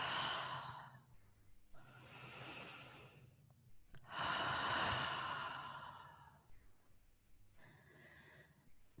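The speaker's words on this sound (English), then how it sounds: "Final 3 breaths right here." Slow, deep breaths are taken during a relaxation pose at the end of a wall yoga session with crystal bowls, with a few long, audible exhales spaced evenly over a faint, steady hum.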